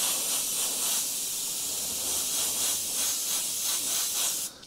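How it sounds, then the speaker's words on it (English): Airbrush spraying white paint (Trident white) onto paper, a steady close hiss of air and paint held evenly for several seconds before cutting off at the end. "the key is to make sure that you spray down on the surface."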